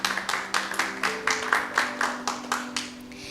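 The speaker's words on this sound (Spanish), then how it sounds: "para quien pido por favor un aplauso" Audience applause at a university panel discussion, a faint, steady patter of clapping hands at an even rhythm that tapers off, heard from a distance.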